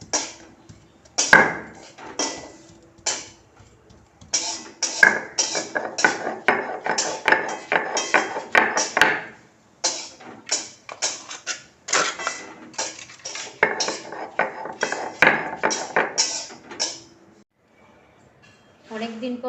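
Ginger and spices crushed on a stone grinding slab (shil) with a stone, a loud, close run of rapid knocking and grinding strokes in bursts with brief pauses, at a home puja.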